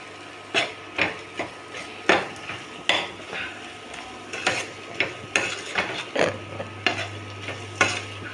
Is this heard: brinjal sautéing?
yes